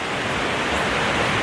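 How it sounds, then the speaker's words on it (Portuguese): A waterfall in the Swiss city of St. Gallen gives a steady, dense rushing roar, loud and unbroken, with no voices. "Olha onde é que tem uma cachoeira."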